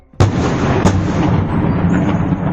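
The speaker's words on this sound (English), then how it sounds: "a video in which numerous loud bangs can be heard in the background" Two sharp, loud explosions crack out during an attack near St. Petersburg, each followed by a long rumbling roar that fills the air, heard from a distance outdoors with no voices.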